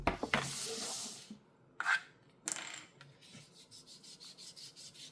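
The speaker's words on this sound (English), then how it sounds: "So I'm keep erasing this." A doll-shaped eraser rubbed across paper: close, raspy scrubbing bursts with pauses, then a run of lighter rhythmic rubbing strokes, no voices.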